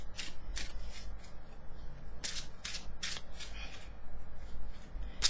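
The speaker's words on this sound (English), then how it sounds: "I go quiet whilst I shuffled." Tarot cards are shuffled by hand in quick bursts of riffling, several short flutters separated by pauses, close and fairly quiet with no talking.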